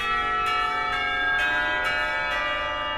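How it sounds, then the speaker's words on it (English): A school bell rings out in the visual novel game Katawa Shoujo, a sustained, resonant chiming tone with repeated strikes about every half second, loud and steady with no talk. "The school bell ringing out startles us both."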